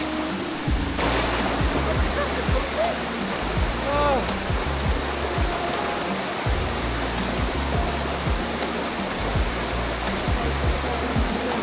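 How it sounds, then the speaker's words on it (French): A jungle waterfall near Taiping, Malaysia, roars as a loud, steady wash of falling water that fills the scene without pause. A faint voice surfaces briefly partway through. "On a clairement la cascade pour nous tout seuls"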